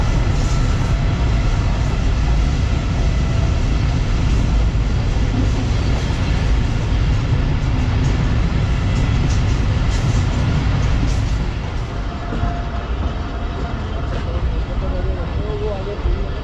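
A passenger train rolls along after leaving Sharjah junction on a foggy winter journey, a loud continuous rumble and rattle of carriages heard from inside, easing slightly near the end, with speech mixed in.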